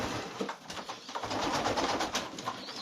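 Old Polish carrier pigeons, moulting, coo softly and repeatedly over a noisy, rustling background, with no talking.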